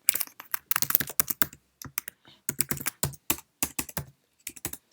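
Someone types an email on a Mac computer keyboard in Microsoft Outlook: close, crisp keystrokes in quick irregular bursts with short pauses between words.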